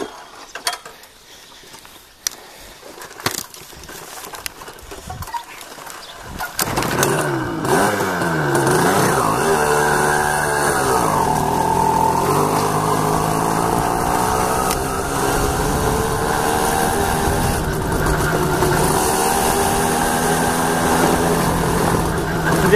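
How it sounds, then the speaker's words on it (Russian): A cold moped engine, apparently a Riga 13, starts after a few clatters and settles into a steady, close, rattling two-stroke buzz with slight wavering revs, running alone without speech. "Движочек холодный еще строчит."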